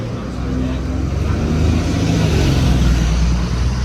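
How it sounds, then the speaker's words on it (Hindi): Road traffic passes on a UK street, a steady broad roar of engines and tyres with a low rumble from larger vehicles, continuous and fairly loud throughout. "यहाँ थोड़ा ट्रैफिक है।"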